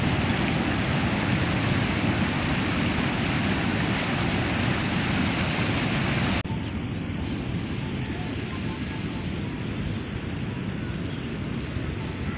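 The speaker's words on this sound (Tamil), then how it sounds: "செம்ம சூப்பராக தண்ணி போயிட்டுருக்கு" Rushing water at a waterfall stream, a dense, steady broadband roar near and loud throughout, dipping slightly in brightness midway as the view shifts.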